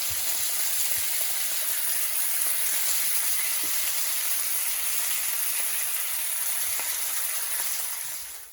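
Halved bacon strips frying in a pan hiss and crackle steadily, a loud, even sizzle close up with faint pops throughout and no talking.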